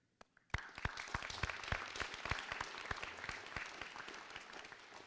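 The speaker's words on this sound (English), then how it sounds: "I'd like for you to give a round of applause to the staff that helped get you here." After a brief near-silence, a graduation ceremony audience for the Mid-Columbia Partnership Class of 2023 breaks into applause for the staff. Sharp individual claps stand out over a fairly loud, sustained round.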